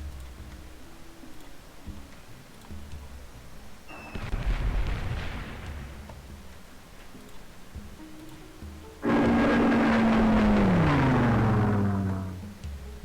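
Artillery combat in Civilization III: two bursts of booming gunfire and rumbling explosions, the first brief around mid-way, the second louder and longer with a falling whistle-like tone before it cuts off.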